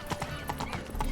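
Roach, Geralt's horse in the video game The Witcher 3: Wild Hunt, gallops with steady rhythmic clip-clop hoofbeats and a brief whinny, moderately loud and close.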